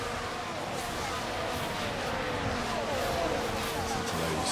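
Several Formula 1 race car engines in F1 Manager 24 drone and whine steadily at a distance, a continuous layered roar with rising pitch sweeps, with commentary talk over it.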